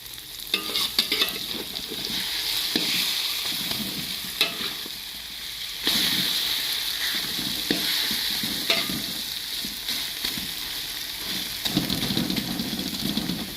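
Chopped bitter melon and egg frying in a pan, a continuous close sizzle punctuated by repeated scraping and clacking stirring strokes across the whole stretch, with no voices.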